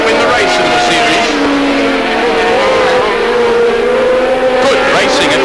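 Race cars in a Swann Series race at Lakeside Circuit, 1987, roar steadily and loudly through a corner, engine notes holding high with a faint tire squeal near the end.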